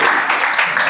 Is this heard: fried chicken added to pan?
no